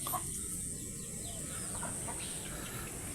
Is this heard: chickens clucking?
yes